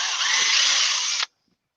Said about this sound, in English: Drill these and then hold it up for you.